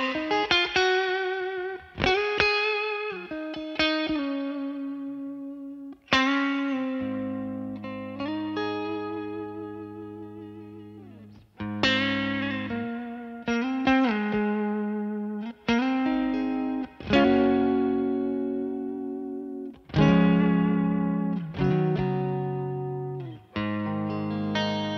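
An electric guitar plays through a Victory V4 Duchess amp on a clean tone with digital reverb, ringing chords and single notes in phrases that swell and decay, with short pauses between them.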